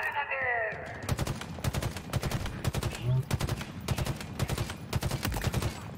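Rapid automatic weapon fire in Halo Infinite rattles in fast, steady bursts at close range after a brief synthetic whine, loud and continuous for several seconds.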